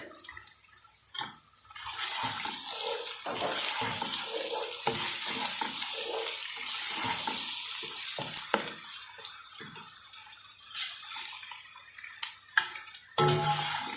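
Garlic and ginger frying in a pan for shahi daal mash, a loud, dense hiss of sizzling oil that swells and holds, with brief stirring clicks and scrapes, close up and with no speech.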